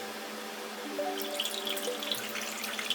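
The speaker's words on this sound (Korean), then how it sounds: "아까 착즙한 레몬을 그대로 잔에다 부어 주겠습니다" Freshly squeezed lemon juice poured into a 16 oz glass, a steady liquid stream with a rising tone as the glass fills, a few light splashes toward the end, no talking.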